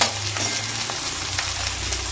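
Close, continuous sizzle of onions and long-cut green chilies frying in hot oil, broken by a few faint stirring taps.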